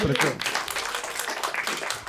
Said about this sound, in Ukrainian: Йому оплески, будь ласка